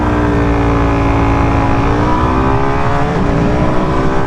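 A 2025 Suzuki DRZ4SM supermoto engine revs up steadily and loud from onboard, pitch rising through the gear with a brief dip near the end, wind noise underneath.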